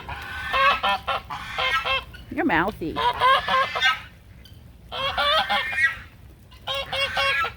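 An American Buff goose honks loudly and close by in repeated harsh bursts, with a short rising squawk partway through, while a person briefly speaks over the calls outdoors.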